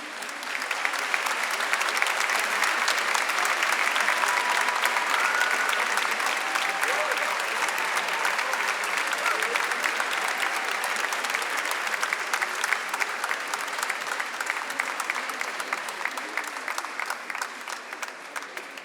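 Audience at an anniversary concert applauding, a dense, sustained roar of many hands clapping that holds steady for the full length and tapers slightly toward the end, with no voices standing out.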